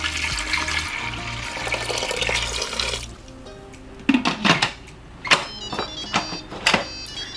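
Water poured from a tap into an Instant Pot of split peas, a steady running gush for about three seconds, followed by several clattering knocks and splashes as the pot is handled.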